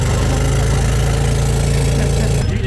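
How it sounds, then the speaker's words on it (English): A loud go-kart engine idles at the Sea Otter cycling event, a steady low, rattling throb that runs on without a break before cutting off abruptly near the end. "at the entrance they had these go-karts to transport people from the entrance all the way inside the track area"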